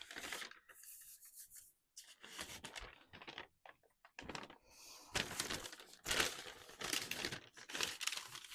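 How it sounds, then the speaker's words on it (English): A sheet of paper is handled and turned over, giving close, dry rustling and rubbing in several bursts separated by short quiet gaps. "Just let me turn this paper over."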